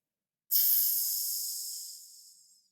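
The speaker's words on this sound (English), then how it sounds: "That choo-choo sound that you hear is like when it starts getting going." A steam engine releases a single sustained hiss of steam that starts abruptly, stays bright and airy, then slowly fades out over about two seconds against silence.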